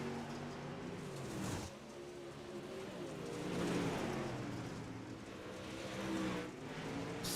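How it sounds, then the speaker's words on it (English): UMP Modified race cars rolling around a dirt track at Cedar Lake, heard as a continuous distant engine roar that swells and eases in waves, with no voices. "Listen to the cars rolling out there here tonight."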